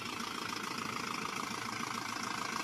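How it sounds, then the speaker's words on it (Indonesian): A 2016 Isuzu Elf long truck engine idling warm, a steady even rumble with a fine rhythmic pulse, close and unbroken. "mesin oke, tidak ada masalah teman-teman."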